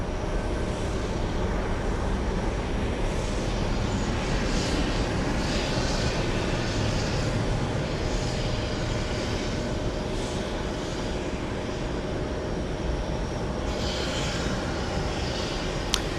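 At JFK airport, seen from the TWA Hotel, jet aircraft engines produce a steady broad roar that holds throughout, with a faint high whine and a slight swell near the end, and no voices.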